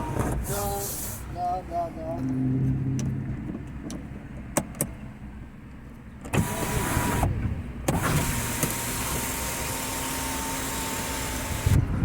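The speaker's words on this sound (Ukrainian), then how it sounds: "Перед комп'ютерною діагностикою провіримо в принципі люк." Electric sunroof on a Mitsubishi Outlander XL running its motor, a steady whirring drone with brief stops and restarts, heard close inside the cabin alongside a few clicks and bumps.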